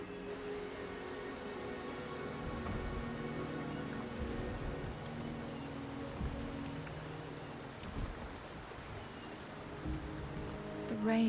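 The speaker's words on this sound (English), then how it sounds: "The rain is subsiding, and the sky will soon clear." Steady rain falls in Wuthering Waves, a soft, even patter that runs throughout, with a few faint dull thuds beneath it.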